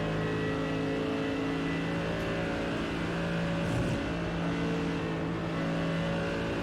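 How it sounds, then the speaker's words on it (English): Race car at the 24 Hours of Spa endurance race, a steady loud engine drone with a brief swell as another car passes, sustained throughout without talk. "Car just getting past at the moment."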